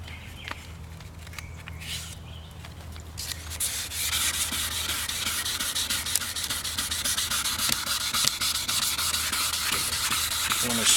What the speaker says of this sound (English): Next, take the 600 grit sandpaper.